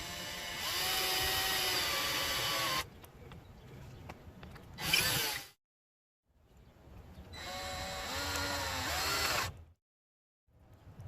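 A power drill boring into camper shell glass, two sustained high whining bursts of a few seconds each separated by short pauses and a brief silence, close and fairly loud with no voices.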